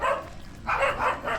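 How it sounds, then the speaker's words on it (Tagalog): A dog barks in a few quick, loud bursts close by, with short pauses between them. "Natahulan siya ng mga dogs."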